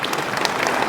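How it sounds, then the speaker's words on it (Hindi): An audience claps at a yoga festival event, a dense, loud burst of steady applause filling the whole moment with no voices on top. "अरे ताली क्या हो गया?"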